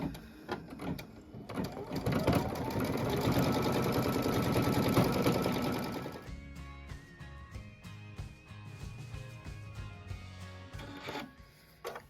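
A home embroidery machine stitching a window tack-down on a quilt block, whirring with rapid mechanical needle clatter, loud and steady at first, then shifting to a lighter rhythmic ticking with pauses.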